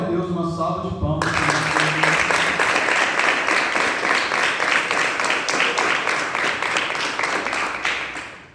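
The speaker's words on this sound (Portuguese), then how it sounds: "uma salva de palmas" A voice speaks briefly before a church congregation breaks into loud, sustained applause that fills the rest of the clip and fades slightly at the end.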